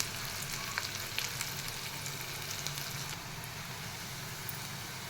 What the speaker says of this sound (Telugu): ఉల్లిపాయ కొంచెం ఆగనించుకుందాం